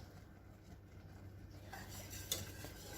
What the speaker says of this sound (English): continue stirring until it thickens